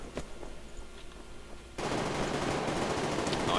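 Gunfire in the online shooter Survarium: a few scattered shots at first, then a dense, loud stretch of automatic fire that runs continuously to the end.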